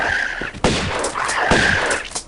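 Lara's pistols firing in the 1996 Tomb Raider video game, two loud sharp shots about a second apart, each with a short ringing tail over a steady game ambience.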